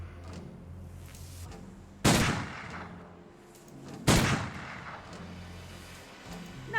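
Two sharp gunshots in the zombie video game Urban Strife, spaced about two seconds apart, each a loud crack with a decaying tail over a quiet ambient game background.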